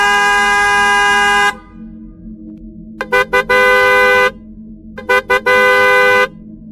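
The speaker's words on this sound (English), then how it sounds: "The car honks again, longer this time as the driver holds it, then follows with a few repetitive short taps" A car horn blares in one long held honk, then after a pause comes a burst of short repeated taps and another long blast, each sounding loud and close.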